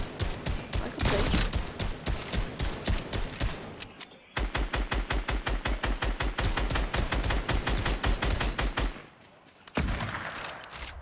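Rapid automatic gunfire in the Fortnite video game rattles in long, evenly spaced bursts, loud and close, broken by a short pause and then a brief quieter stretch before firing resumes; no talk.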